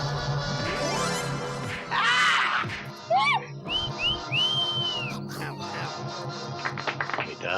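A person whistles while watching a film, letting out a few short rising and falling whistled notes and swoops amid the film's clattering sounds, crashes and background chatter.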